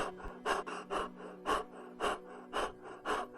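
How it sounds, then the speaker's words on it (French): Short, rasping breaths repeat in a quick uneven rhythm, about six harsh gasps close up with no talking. "J'ai entendu une respiration rauque et courte."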